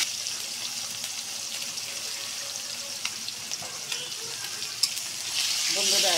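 Turmeric-coated tengra fish frying in oil in a wok, a steady close hiss of sizzling with small pops and crackles that swell slightly toward the end, with no talking.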